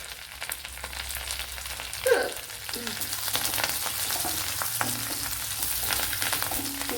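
Fresh curry leaves sizzle in hot oil, a continuous crackling fry with a sharp burst as they hit the pan, then a steady close hiss with faint clinks, no speech.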